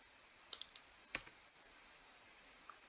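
A computer keyboard is typed on in a few quick, light clicks, close but faint, followed by a quiet pause and one last tap.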